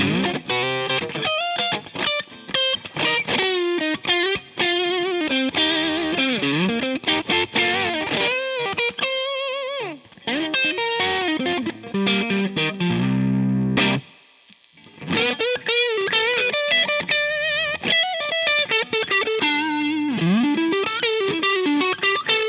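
A purple Fender Stratocaster electric guitar on its middle pickup plays through a distorted, effects-laden amp, loud sustained riffs and bends running almost continuously with a couple of short pauses.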